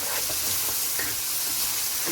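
Spring onions sizzling in a pan for a seafood linguine stir fry, a steady close hiss of frying with faint stirring scrapes running throughout.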